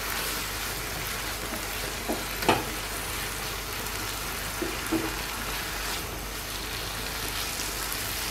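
Onion and chili sauté with spices in a pan, a steady, close sizzle with a few light scraping taps from stirring partway through.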